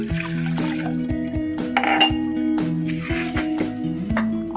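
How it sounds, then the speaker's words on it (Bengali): Water poured into a bowl in a home kitchen, a continuous close trickle and splash with small clinks, lasting a few seconds. "এবার আমি একটা বাটিতে নিয়ে নেব কিছুটা জল"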